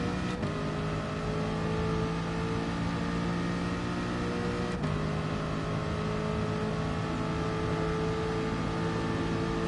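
A racing video game car engine drones steadily at high revs for the whole stretch, loud and continuous, with two brief clicks breaking in and no voices.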